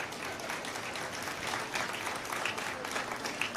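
Steady applause from a crowd, a dense wash of clapping that holds at an even level throughout.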